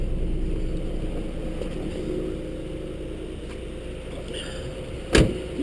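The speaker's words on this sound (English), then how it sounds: "So I'm going to get out of the car now." A person climbs out of a 1949 Plymouth car, with a steady low rumble throughout and a single sharp door thump near the end, close by.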